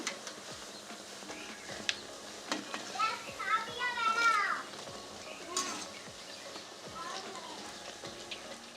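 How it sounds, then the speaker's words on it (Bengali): Bread chop pakoras fry in oil with a soft, steady sizzle close by, partly covered by children's voices and chatter in the background. "এভাবে আমি বাকিগুলো ভেজে নেব"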